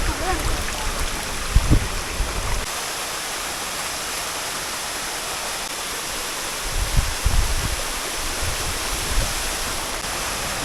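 Steady broadband rush of a waterfall fills the whole clip, with a few low thumps and bumps near the start and later on.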